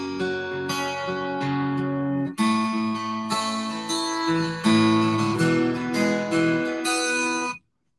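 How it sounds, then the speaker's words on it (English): Twelve-string guitar plays a bright ringing riff of chiming chords, close and clear, alone, ending abruptly after several seconds. "that's the sound of a 12 string"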